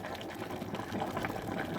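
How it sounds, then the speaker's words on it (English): A hop sock boils in a home-brewing kettle, giving a steady, close, rolling bubble and hiss with no pauses and no voices. "So the hop sock's boiling away in the kettle there."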